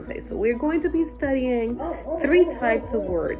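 Dogs bark and yip repeatedly in the background, a run of close, excited barks and whimpers mixed under a person talking over them.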